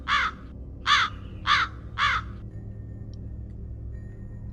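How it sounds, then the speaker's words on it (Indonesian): A crow caws four times in a steady rhythm, each harsh call loud and fairly close, over a low rumbling background on a mountain at night, then quiet hum. "mereka mendengar suara burung gagak lagi yang seakan sedang terbang di atasnya"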